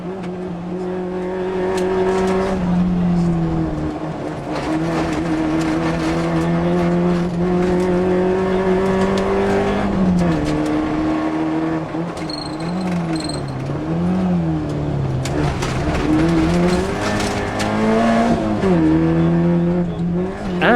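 A 1600cc Peugeot 205 rally car on a tarmac stage on the Tour of Mull, engine loud and close as it revs through gear changes, pitch rising and falling with throttle and a brief tyre squeal, with no talk.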